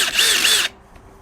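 A Milwaukee M18 2904 hammer drill/driver on speed 1 bores with a 2 9/16-inch self-feed switchblade bit, a loud, close, high motor whine that cuts off abruptly after about two-thirds of a second, leaving near silence.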